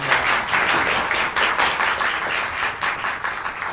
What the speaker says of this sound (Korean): 그럼 일단 박수 좀 부탁드리겠습니다